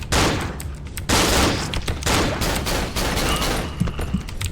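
Sustained gunfire in the horror video game Cry of Fear, a dense loud barrage of shots running continuously without pause.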